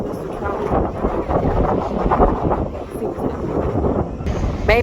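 Strong wind at Cocoa Beach roars steadily across the microphone, a loud continuous buffeting rush that stays close and constant throughout.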